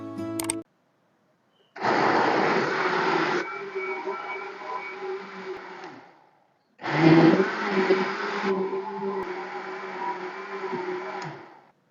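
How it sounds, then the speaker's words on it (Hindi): A kitchen blender whirs through a mango drink mixture in two long bursts of several seconds each, separated by a short silence, loud at the start of each run and easing slightly as it continues. "ब्लेंड करेंगे फिर से इसको"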